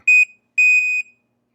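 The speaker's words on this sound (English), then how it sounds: "it comes with an early warning smoke detector. And they actually send you the batteries for it. Let's test it." An early warning smoke detector being tested with its test button: two loud, piercing electronic beeps, a short one then a longer one, close and alone.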